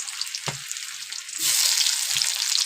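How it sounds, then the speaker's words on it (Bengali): Tomatoes and chopped green chillies hit hot fried onions in a pan, the sizzle jumping sharply louder as they go in, with a few soft stirring knocks. "তো চলো এবার এর মধ্যে দিয়ে দেবো টমেটো আর কাঁচা লঙ্কা কুচি"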